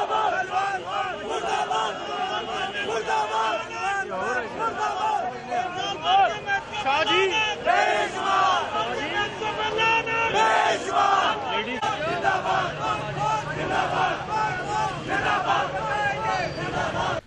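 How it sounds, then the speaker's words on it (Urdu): Crowd of protesters chanting slogans against Tehreek-e-Insaf and Imran Khan, a dense roar of many voices shouting continuously and loudly throughout, with rising surges of cries. "شدید نعرے بازی ہوئی اور اس موقع پہ تشدد بھی ہوا اور تحریک انصاف اور خود عمران خان کے خلاف نعرے بھی لگائے گئے"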